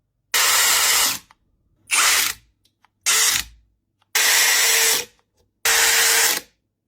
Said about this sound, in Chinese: 前面这个多档位调节，调到合适的档位，拧螺丝的时候一旦拧紧它就会停止